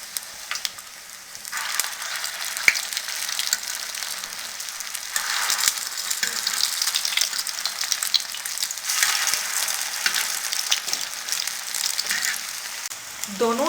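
Chicken and vegetable tikki fry on a tawa with a bright, crackling sizzle at moderate loudness, swelling and fading a little but running steadily throughout.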